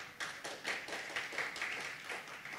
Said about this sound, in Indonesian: Tepuk tangan yang ya.